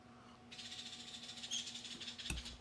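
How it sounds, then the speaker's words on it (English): A bird calls loudly and steadily in a high, shrill voice, its repeated notes running together with no one speaking. "that's a loud bird"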